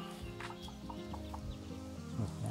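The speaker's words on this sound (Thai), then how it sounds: "ไก่ผมวิ่งอยู่ตอนนี้" Chickens cluck in short repeated bursts on a Thai garden homestead, fairly close and continuous over a low background hum, with no talking.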